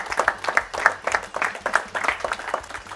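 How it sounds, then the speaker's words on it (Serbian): Applause from a school debate audience after the first debate round, a steady burst of many hands clapping close by, with no speech over it. "veliki aplauz za prvi debatni krug"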